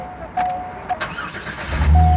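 Keys click faintly, then a 1998 Corvette engine cranks and turns over near the end, close and fairly loud.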